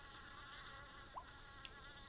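Buzzing bee from an ant-themed iPhone game, a steady high insect drone running throughout at moderate level with a couple of brief chirpy blips layered on top, no voices.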